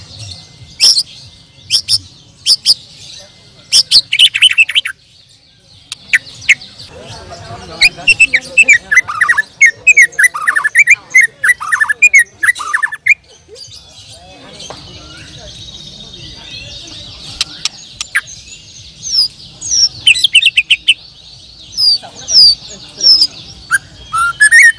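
A white-rumped shama (murai batu) sings alone, loud and close, with varied bright whistles, rapid chirps and trills in bursts over a faint insect hum.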